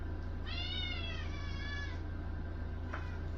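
A house cat meows once in a long, wavering cry over a steady low hum, followed by a faint short chirp near the end. No one talks.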